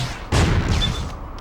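A butt cannon fires a heat-seeking missile in an Astro Boy video game, a sudden loud blast followed by a sustained rushing, roaring whoosh with a thin whistling tone, close and alone without talk.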